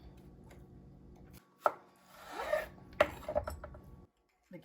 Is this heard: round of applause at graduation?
no